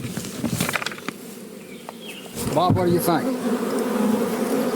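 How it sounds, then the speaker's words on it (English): Angry bees swarm around a fallen hive, a loud close buzzing drone that swells and persists throughout while someone speaks briefly over it. "That just angers the bees even more."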